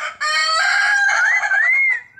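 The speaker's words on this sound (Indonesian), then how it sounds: "burung Beo kalau dilatih bisa bicara kawan" A loud, drawn-out hill myna call with a rising and wavering whistle-like tone, close by and heard alone.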